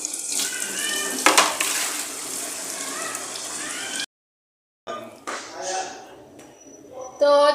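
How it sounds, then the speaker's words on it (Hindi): Tap water runs loudly into a sink while cooking utensils and pots are washed, a steady close gush that stops briefly before resuming with clatter and a voice. "सब्जी भांडे भूंडे धो लेने हैं"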